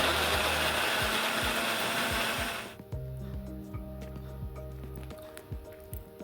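Spices for chicken curry ground in a home kitchen, a loud continuous whirring grind that cuts off after a few seconds, followed by a quieter electrical hum and scattered handling knocks.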